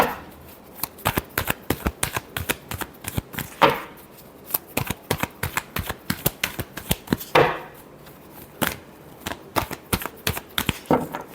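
A tarot deck is shuffled during a love reading, giving a long run of quick, crisp card riffles and flicks in irregular bursts with brief pauses, close and alone with no talking.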